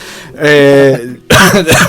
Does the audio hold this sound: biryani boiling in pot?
no